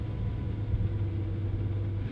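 A Lamborghini Aventador SV's engine gives a deep, steady low rumble from inside the car, sustained and fairly loud, with no talking over it.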